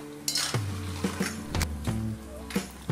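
Diamond cuts, a Kerala tea-time snack, deep-frying in hot oil, a continuous close sizzle broken by several sharp metallic clinks of a utensil against the pan.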